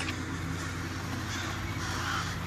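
Crows caw in the VR horror game Face Your Fears, several harsh calls scattered over a dense, steady background of game ambience, moderately loud and with no speech.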